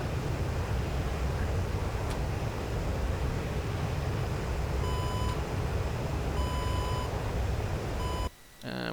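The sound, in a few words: warning alarm beeps in DCS AJS-37 Viggen video game cockpit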